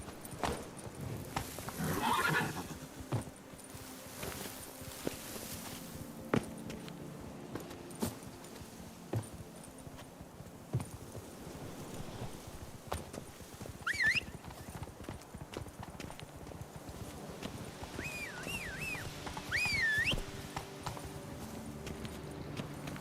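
Roach, the horse in The Witcher 3 video game, clip-clops steadily along at a walk, hooves close and clear, with a few whinnies and snorts breaking through near the middle and toward the end.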